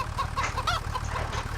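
Chickens in the Farming Simulator 25 video game cluck in a steady, repeated pattern of short calls over a continuous low background hum, close and fairly loud.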